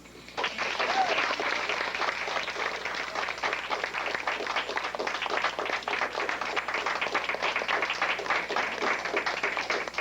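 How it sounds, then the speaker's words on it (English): Audience applause at a 1998 Toastmasters accolades meeting, a dense sustained round of clapping from a room full of people that starts abruptly and keeps steady, fairly close and loud for about ten seconds. "a round of applause, Nate Jackson."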